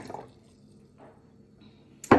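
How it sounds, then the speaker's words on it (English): Oil and water pour into a glass jar in a short splash near the end, after a few faint drips and quiet trickles, close and fairly loud. "So if we pour this in the jar, you'll see it mixed together."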